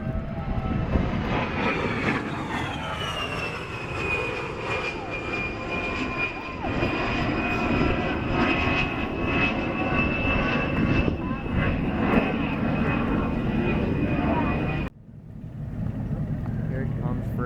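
Maryland Air National Guard A-10 jet coming in for its final landing, a loud sustained engine roar with a steady whine that drops away sharply near the end, with people talking nearby.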